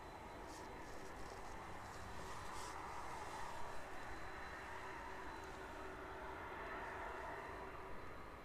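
An airliner arriving to land at East Midlands Airport passes over a park as a faint, steady jet roar, distant and even throughout with no voices.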